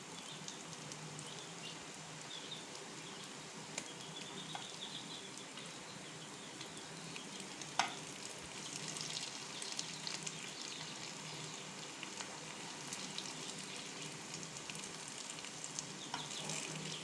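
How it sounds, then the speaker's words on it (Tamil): Cabbage cutlets fry in a pan, a faint, steady crackling sizzle with scattered small pops and one sharp tick near the middle, continuing without voices. "கட்லெட் ஃப்ரை பண்ணியாச்சு"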